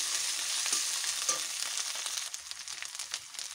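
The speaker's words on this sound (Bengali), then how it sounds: "ক্যাপসিকামগুলো দিয়ে দেবো। দিয়ে একটু ভালো করে ভেজে নেব।" Capsicum frying in a pan, a steady close sizzle with light stirring scrapes that grow more uneven toward the end.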